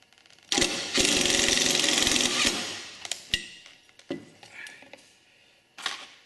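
A power impact gun drives a bolt during a homebuilt Affordaplane aircraft build, giving about two seconds of loud, steady whirring and rattling, followed by scattered clanks and handling noises.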